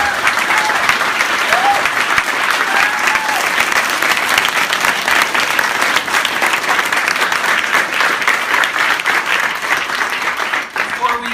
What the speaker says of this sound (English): Round of applause for the panel, right?